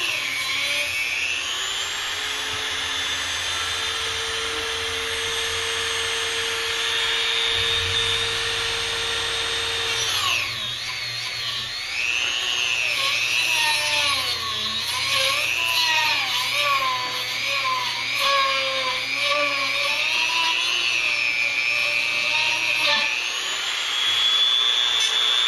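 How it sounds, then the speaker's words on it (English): A cut-off wheel grinds through the metal sight of a Kel-Tec Sub 2000, a loud continuous whining screech that shifts pitch and wavers as the blade bites and is pushed through the cut, with no talking. "I changed out the cut-off blade again because obviously you can see it's not an easy process"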